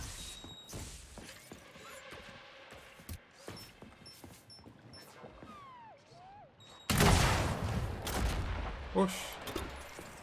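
Bazooka fire in the video game Atomic Heart: a sudden heavy blast erupts after a stretch of scattered clanks and game noises, followed by a loud rumbling roar that tails off.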